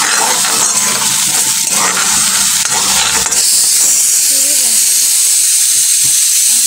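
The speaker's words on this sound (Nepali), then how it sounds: "यसमा चाहिँ मैले अब टमाटर हाल्छु।" Tomatoes hit a hot pan of bitter gourd curry, setting off a loud steady sizzle and hiss that carries through the whole stretch, with a voice speaking over the first part.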